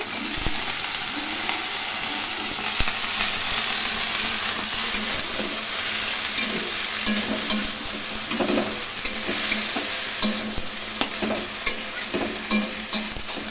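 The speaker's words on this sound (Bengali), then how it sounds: "একটু ভাজা ভাজা করে নিচ্ছি" Small pieces of broccoli fry in hot oil with cumin for a Bengali broccoli curry, a steady close sizzle running throughout with scraping stirs and clicks of a utensil against the pan, no voices.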